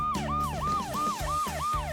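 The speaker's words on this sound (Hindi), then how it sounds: "Hello, ambulance." An ambulance siren wails in fast, repeating rising-and-falling sweeps, loud and close, with a vehicle engine rumbling underneath.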